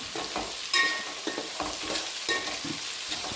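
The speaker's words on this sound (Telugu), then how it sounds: "ఇవి కూడా వేసుకొని అన్నీ కలుపుతున్నాను" Green peas and carrot stirred and fried in a pan for coriander rice, with steady sizzling under repeated scraping stirs of a spoon against the pan, close and moderately loud, no talking.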